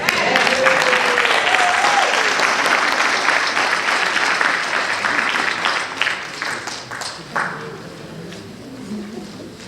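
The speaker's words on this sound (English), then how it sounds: "Please, one more round of applause." An audience at the dedication ceremony for a university's school of social work building gives a long round of applause. Loud, continuous clapping fills the hall and then thins out toward the end.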